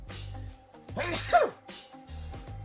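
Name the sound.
sneeze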